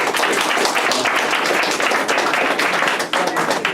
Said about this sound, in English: Once again, round of applause for yourself